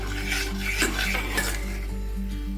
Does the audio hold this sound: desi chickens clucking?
no